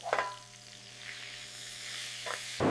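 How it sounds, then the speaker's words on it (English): A lobster portion warming in butter gives a soft, even sizzle with a low steady hum under it and brief louder crackles at the start and end, close and fairly quiet. "The portion warms in butter, edges turning glossy while the meat stays firm and opaque"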